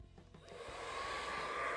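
A hair dryer set to low and cool starts up after a few soft handling knocks and rises into a steady, close airy rush that holds to the end.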